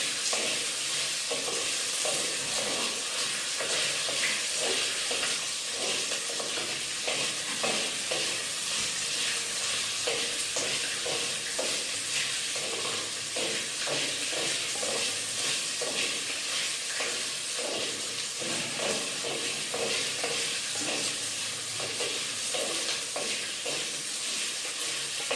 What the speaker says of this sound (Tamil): தக்காளி நல்லா வணங்குற வரையும் கிளறிடுங்க